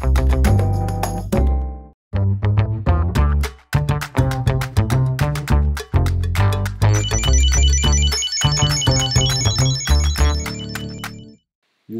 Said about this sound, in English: You can ring your phone and your phone can ring your AirTag.